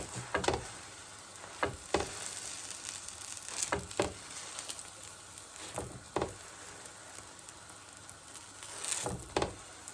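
An aloo paratha fries on a pan with oil as it is turned and pressed down, giving a faint sizzle broken by several sharp pressing or scraping knocks, with no talk.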